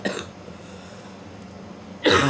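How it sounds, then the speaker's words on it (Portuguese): A short cough bursts out at the very start, then a quiet stretch, then another harsher cough at the end, close and loud, with no talking. "fiquei mais de 1 hora aqui esperando essa tosse passar"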